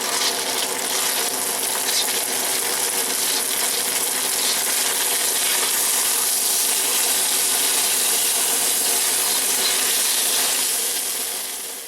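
Steady sizzling and crackling of rice stir-frying in a hot pan, close and continuous, with no talking.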